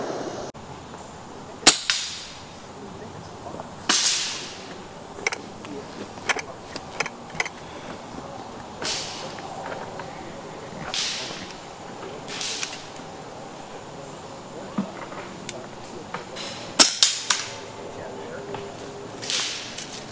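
FX air rifles fire at a field target competition, with sharp sporadic cracks spread across the stretch, some close and loud, others fainter, over an outdoor background with occasional voices.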